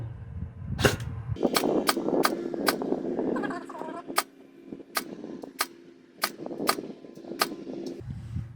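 An airsoft AEG rifle fitted with a new inner barrel fires a string of sharp, evenly spaced single shots, about a dozen snapping cracks over a mechanical whir, close and loud, with no talking.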